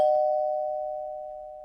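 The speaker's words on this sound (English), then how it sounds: "the doorbell rang." A single electronic doorbell chime rings out clearly and fades slowly, with nothing else around it.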